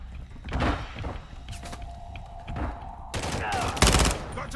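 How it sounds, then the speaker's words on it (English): Bursts of gunfire in the Call of Duty Modern Warfare III Zombies mode, several sharp shots and short volleys spread across the moment, with game ambience and a sustained tone underneath. "I'm taking effective fire!"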